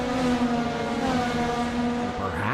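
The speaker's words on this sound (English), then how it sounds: "Here's the focus of Matt Chevry driving the number 16 Ferrari." The number 16 Ferrari race car lapping Suzuka in a racing video game, a loud sustained engine whine with strong steady harmonics that shift near the end as the revs change.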